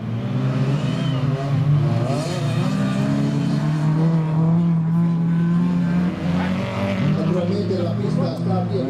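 A yellow Opel race car drives a worn, bumpy circuit at an amateur race meeting, its engine droning loudly and steadily with shifting revs while a commentator talks over it.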